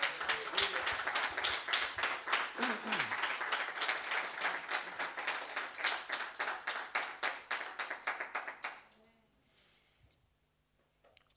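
A church congregation applauding during a sermon, steady rhythmic clapping in unison with voices mixed in, fairly loud and then stopping abruptly into near silence.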